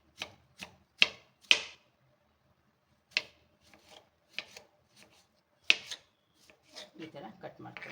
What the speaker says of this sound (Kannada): ಇದು ತೆಗೆದ್ಬಿಟ್ಟು ಸಣ್ಣದಾಗಿ ಕಟ್ ಮಾಡ್ಕೊಳ್ಳಿ.